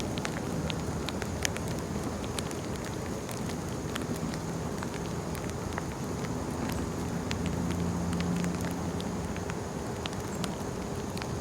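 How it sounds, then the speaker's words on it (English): Steady rain falling in an outdoor park, a dense even patter with occasional sharper drops, continuous and unbroken throughout with no voices. "it started raining here at the park"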